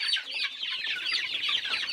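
Chickens on a farm clucking continuously, several hens close by with overlapping busy calls and no pauses.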